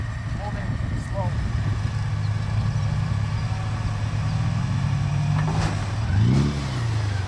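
A Toyota Land Cruiser FJ80 pushing through deep snow in Siberia, its engine droning steadily with a rising rev near the end, and voices talking over it.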